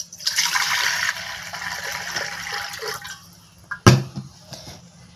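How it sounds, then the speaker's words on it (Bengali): Water pours into an open pressure cooker in a steady splashing stream lasting about three seconds, followed by a few clunks and knocks. "আর এখানে আমি দিয়ে দিব জল।"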